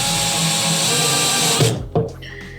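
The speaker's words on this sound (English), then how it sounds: "We're just gonna go with our screwdriver and just tighten them up just snug." A powered screwdriver whirs continuously while snugging screws on the lid of a YakAttack BlackPak Pro kayak crate, loud and close, then cuts off followed by a couple of light knocks.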